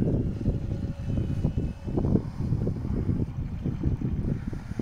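A small remote-controlled boat runs on open water, its low churning rumble steady and close, with wind buffeting the microphone and no voices.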